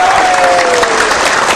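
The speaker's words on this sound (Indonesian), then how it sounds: "Tepuk tangan yang keras lagi." Loud, sustained applause from an audience at a comedy MC performance, steady dense clapping filling the whole moment with a faint tonal whistle drifting through.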